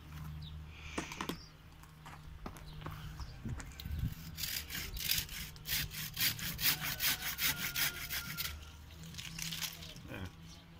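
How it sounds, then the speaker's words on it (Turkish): A hand saw cuts a lemon tree branch during pruning, a rapid run of rasping back-and-forth strokes in a steady rhythm, close and moderately loud, with a few knocks and rustles around it and no speech. "Bunu testereyle keseceğim."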